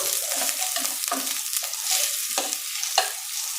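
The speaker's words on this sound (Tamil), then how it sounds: "வெங்காயம் வந்து நல்லா பொரிட்டோம்" Onions fry in a pan for mutton curry, a bright steady sizzle broken by repeated scraping stirs and a couple of sharp clinks.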